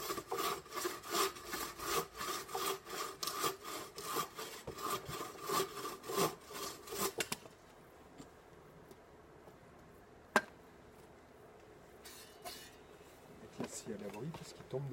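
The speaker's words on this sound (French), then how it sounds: "Et puis s'entraîner à scier des deux mains" Small pieces of wood being cut with a hand saw, rapid rhythmic back-and-forth strokes for about seven seconds, close and fairly loud, then quiet outdoor ambience with a sharp knock and faint scattered sounds.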